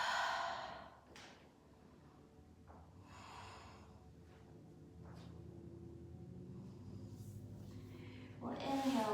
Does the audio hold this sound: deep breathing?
yes